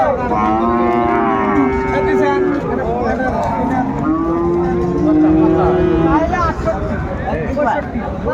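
A Friesian bull moos loudly in several long, drawn-out lowing calls close by, with people talking in the background at a cattle market in Dinajpur, Bangladesh.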